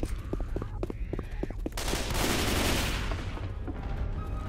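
Rapid gunfire in the zombie shooter game Left 4 Dead 2, with a string of sharp, quick shots that gives way to dense, sustained automatic fire and chaotic noise, loud and close.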